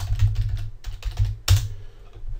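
Rapid keystrokes on a computer keyboard, typing a search query, in short clustered bursts with a sharper click near the middle, close and clear over a low background hum, no voices.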